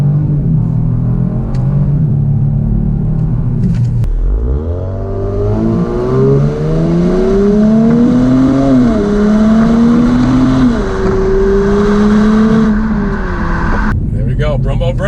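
A Kia Stinger engine revs and accelerates, its pitch climbing through several gear changes, loud and close, with talking heard over it.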